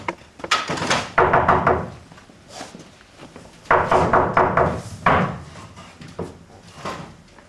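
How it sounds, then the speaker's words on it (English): Knocking on a wooden door in a stage performance of The Taming of the Shrew comes in two loud clusters of several heavy thuds each. Quieter knocks follow between and after the bursts. "You had best knock louder."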